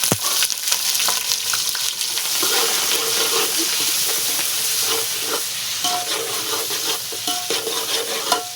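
Onions sizzle in hot oil with whole spices such as cloves, bay leaves and stone flower, a steady close frying hiss broken by light scraping stirs and a few clinks, with no talk.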